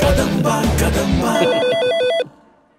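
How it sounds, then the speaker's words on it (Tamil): A telephone rings with a trilling electronic bell over the loud tail of a film soundtrack in a police station scene, the ring repeating rapidly for under a second before cutting off into near quiet. "ஃபோன் வருது பாருங்க."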